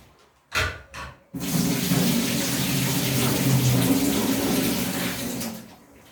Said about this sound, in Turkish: Şöyle suyunu bir süzüyorum.